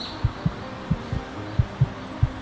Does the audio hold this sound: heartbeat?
yes